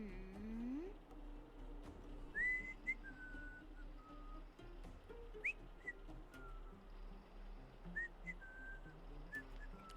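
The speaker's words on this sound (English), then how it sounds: "He's just whistling." A game character in Honkai: Star Rail whistles a few short, separate rising notes over a busy ambient game soundscape, moderately near and not loud.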